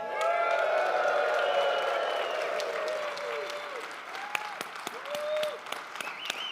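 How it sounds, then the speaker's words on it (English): A Microsoft 365 conference audience cheers and applauds, starting with loud whoops and sustained clapping that gradually thins to scattered claps and a few vocal shouts. "Cheer, everybody."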